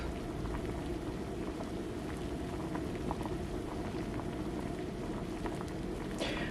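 Homemade vegetable soup boils vigorously in a HotPot, more on one side of the pot, with dense, continuous bubbling and popping at a steady level, close up.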